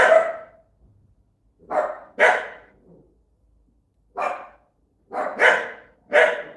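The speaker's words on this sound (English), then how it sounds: "they're very thorough at their job of barking at everything" Dogs bark in short bursts, single and paired, with quiet gaps between them, fairly close and without any talking.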